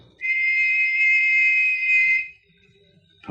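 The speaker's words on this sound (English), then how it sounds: "listen for another whistle like this one" A single clear, high whistle held steadily for about two seconds, then silence.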